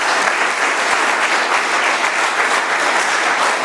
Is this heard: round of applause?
yes